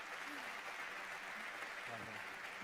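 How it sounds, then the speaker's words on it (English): Steady applause from a crowd at the 2024 MotoGP Repsol Honda Team presentation, a continuous wash of clapping at a moderate distance, with faint voices underneath. "A round of applause."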